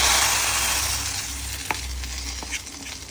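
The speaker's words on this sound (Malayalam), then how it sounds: "ഇച്ചിരി കടുക് വറുത്തെടുക്കുന്നു" Mustard seeds frying in hot oil for tempering a Kerala coconut fish curry, a steady broadband sizzle fading slightly with a few sharp pops, close and alone.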